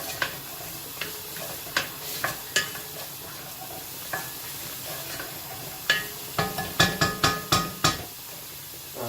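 Mirepoix vegetables sautéing in a pan, with a steady background sizzle broken by repeated sharp scraping clicks of stirring that cluster more densely toward the end, close and fairly loud with no talk.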